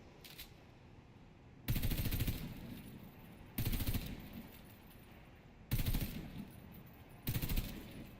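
Bursts of automatic gunfire from a weapon being test-fired against a wall in a video game, four loud sustained volleys separated by short pauses.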